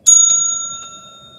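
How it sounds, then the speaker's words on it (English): A small bell dinged once to open a tarot reading, a bright sharp strike with a clear ringing tone that fades steadily, close and alone. "Ding the bell."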